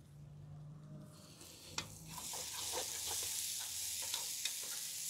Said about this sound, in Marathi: आपण आता याच्यात कांदा घालून घेऊ। हा बारीक कापलेला कांदा।